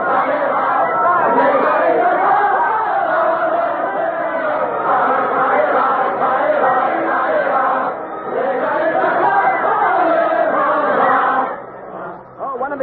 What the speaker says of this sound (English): They're singing about hanging all aristocrats from lanterns.